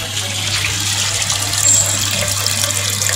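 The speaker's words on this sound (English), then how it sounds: "from the orifice hole the water is passing as a sheet of water" Water pours from an orifice hole as a thin sheet in a hydraulics lab experiment, a steady broadband rushing wash with a low constant hum beneath, continuous and fairly close throughout.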